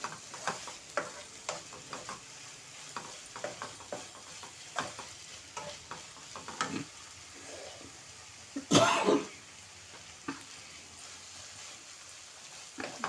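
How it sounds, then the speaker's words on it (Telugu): Amaranth leaves frying in a pan with green chilies and tomato, a soft steady sizzle under frequent light stirring scrapes, close by, with a brief louder cough-like burst partway through. "ఈ రకంగా ఫ్రై చేసుకుని ఒకసారి చూడండి"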